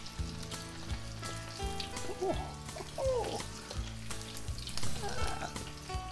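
Tempura-battered shrimp frying in hot oil, a continuous close bubbling sizzle with crackling pops throughout and a few faint voice-like tones mixed in.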